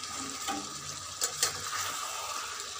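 Fried potatoes drop into a pot of mutton curry and set off a steady, soft sizzle, with a few brief stirring clatters. No one speaks.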